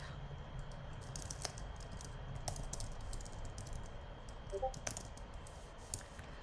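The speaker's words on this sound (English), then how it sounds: "So, we're going to type." Soft, sparse clicks of typing on a computer keyboard come through over a quiet background hum, with a few louder taps spread irregularly across the stretch.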